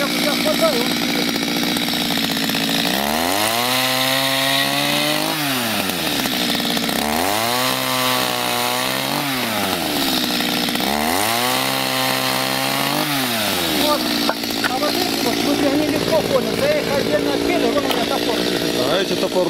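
A loud chainsaw cutting firewood, its engine pitch dipping and rising in three repeated cuts over a constant motor drone.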